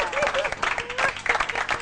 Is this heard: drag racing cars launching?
no